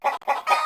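A chicken sound effect gives three quick, close, loud clucks in a tight, evenly spaced burst.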